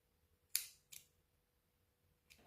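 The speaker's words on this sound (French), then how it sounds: "On ajuste et on coupe." Scissors snip through crochet yarn in two crisp, close cuts about half a second apart, followed by a fainter third snip, in an otherwise quiet room.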